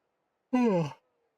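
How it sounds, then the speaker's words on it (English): A single drawn-out yawn from someone commentating a sim racing replay, a rising then falling voiced breath lasting about half a second, close and alone against silence. "Apologies for the yawning."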